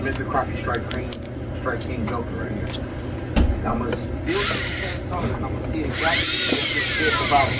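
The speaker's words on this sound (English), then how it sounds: "I'm just using a regular cutoff tool for that comes in like a Dremel kit." A Dremel-kit cutoff wheel grinds into a coin in two short, harsh bursts, the second longer and steadier, over a low background rumble and a faint murmuring voice.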